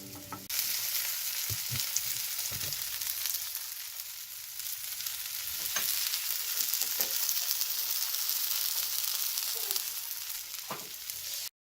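Arepas frying in butter in a pan give off a steady, close sizzle that crackles continuously, with occasional soft scrapes and thumps as they are pressed.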